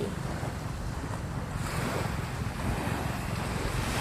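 Sea waves wash ashore at Dong Tan beach with a steady rush of surf and gusting wind buffeting the microphone, continuous and fairly close, no voices.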